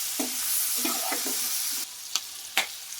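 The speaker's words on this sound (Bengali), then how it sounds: "এবার দিয়ে দেওয়া হচ্ছে কেটে রাখা কাঁচা লঙ্কা। এটাকেও ভালোভাবে ভেজে নিতে হবে।" Chopped green chillies fry in a pan with a bright, hissing sizzle, then several sharp spatula scrapes and taps stand out as the sizzle drops quieter, close and fairly faint.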